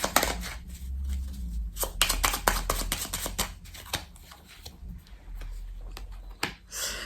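Tarot cards shuffled and laid out on a table, a run of quick crisp riffles and flicks with soft slaps as cards land, close and moderately loud with no talking.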